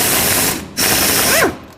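A 10 millimeter bolt being run out of a jet pump, two bursts of close, loud mechanical whirring with a brief pause between them and a rising whine at the end.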